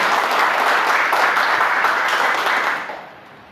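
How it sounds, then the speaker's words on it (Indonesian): An audience at a police community security forum meeting in West Jakarta gives a round of dense, steady applause that tapers off near the end. "Tepuk tangan untuk kita semua."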